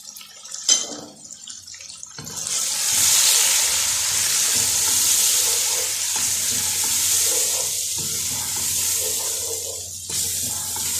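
Ground chilli, coriander powder and turmeric powder frying in a pan for a chicken daal mash masala, a steady close sizzle with occasional stirring scrapes and drips, continuous and loud throughout.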